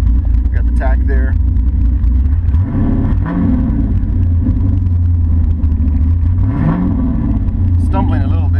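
A car engine runs unevenly with a stumbling idle, a loud low rumble with surges and occasional revs, heard up close while a person talks over it.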